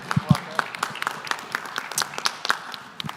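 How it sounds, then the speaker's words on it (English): Scattered applause from a conference audience, with sparse individual claps repeating at close range over soft background murmur. "Let's give Hosky a round of applause."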